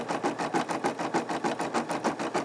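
A Brother SE600 embroidery machine stitches out thin text, its needle pounding in a fast, steady rhythm of about five stitches per second, loud and close with no voices.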